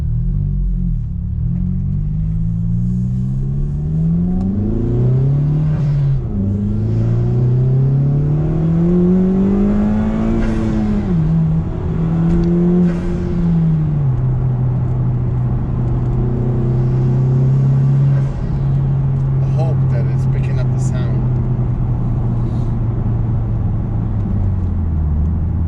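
A Honda Civic FK2 fitted with a Tegiwa B-pipe exhaust revs up and settles, its loud close engine note rising and falling through several swells before easing into a steady drone, with no talking.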